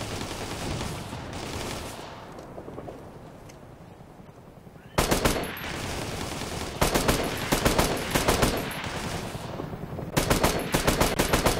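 Automatic weapons fire in the military shooter game Operation Flashpoint: Red River, with a low rumbling background giving way to sharp, loud, repeated gunshot bursts coming in rapid clusters.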